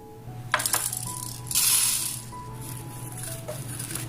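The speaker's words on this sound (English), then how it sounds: "Into a pan, add 2 tablespoons peppercorns" Two tablespoons of peppercorns tumble into a pan for homemade biryani masala, giving a few bright rattling clinks in short bursts with a longer scatter midway, heard close and without talk.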